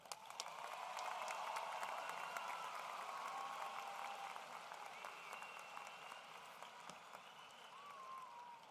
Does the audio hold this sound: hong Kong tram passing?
no